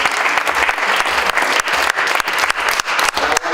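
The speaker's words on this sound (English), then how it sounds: "you can clap for that." An audience breaks into sustained applause at a memorial gathering for President Hugo Chavez, loud and close, with dense clapping that pulses unevenly throughout, no voices on top.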